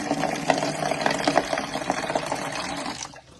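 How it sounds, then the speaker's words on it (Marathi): Tap water pours steadily into a vessel for rinsing colocasia leaves, a close, bubbling fill with small gurgles that stops abruptly near the end. "मग पाणी थोडस भरायचं आपल्याला"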